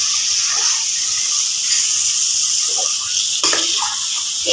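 Spices and coriander powder fry in a pan with a loud, steady hiss and sizzle, broken by occasional scraping stir strokes, including a sharper one just past the midpoint.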